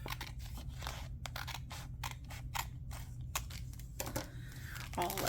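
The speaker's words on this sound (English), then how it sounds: "So I'm thinking if we cut this off," Scissors snip through packaging for a subscription craft box, a run of short crisp cuts with crinkling plastic between them, close and moderately loud, with a voice speaking softly over part of it.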